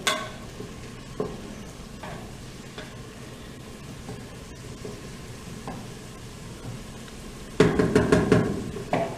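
Garlic, bell peppers, celery and onion cooking in a pot for shrimp creole give a steady soft sizzle with occasional stirring scrapes, then a louder burst of clattering stirring near the end.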